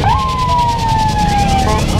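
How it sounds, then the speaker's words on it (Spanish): A police patrol car siren wails with a steady falling tone over a loud rumble of motorcycle engines and street noise at a mass ride in Mexico City. "ya llegaron varias patrullas,"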